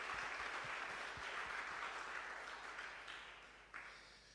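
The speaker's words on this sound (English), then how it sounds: "Let's give all our sponsors one more time a round of applause" An indoor audience at a school robotics challenge claps for sponsors, a sustained wash of applause that gradually thins and fades, heard from within the crowd.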